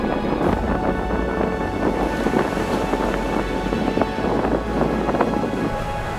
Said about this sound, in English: So windy out there